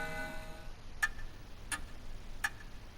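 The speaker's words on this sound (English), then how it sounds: "It's an antique grandfather clock." Antique grandfather clock in a video game, giving three evenly spaced, crisp ticks about two-thirds of a second apart over a quiet, low background hum.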